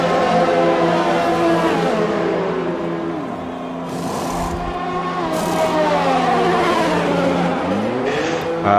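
Race car engines in an F1 video game race at the Australian GP, with a safety car period and pit-lane stop, whine loudly and continuously with rising and falling revs, shifts and brief tire squeal throughout.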